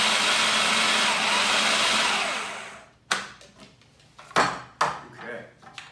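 A blender whirs loudly and steadily as it purées sun-dried tomato pesto, then cuts off after about three seconds, leaving a few sharp clinks and knocks of kitchenware with faint talk.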